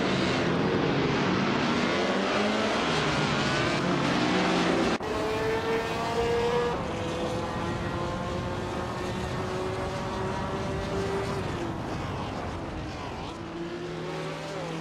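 A 1958 Vanwall VW5 Formula 1 race car in a racing video game, its loud engine howling with rising revs and upshifts, then a sustained high-pitched drone among other cars at Francia Quarter.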